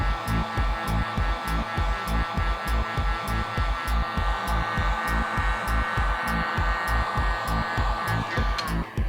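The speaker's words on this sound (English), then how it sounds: "So with a heat gun, never leave it in the same area for too long" A heat gun blows hot air steadily across the toe creases of an '85 Air Jordan 1 Chicago OG sneaker, a continuous close whoosh pulsing with a quick regular flutter and no talk.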